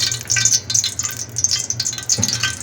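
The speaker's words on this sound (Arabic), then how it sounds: "هتسخن كده اهي، سامعين السمنه قدحت اهي" Hot ghee crackles and sizzles in a pan with soft, irregular popping, and a low hum underneath.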